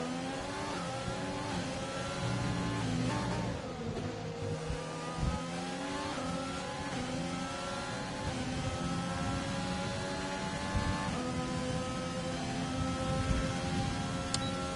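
Race cars scream past at high speed in a Formula-style racing video game at the China Grand Prix, with several engines revving and shifting in overlapping sweeps, loud and continuous, without any voices.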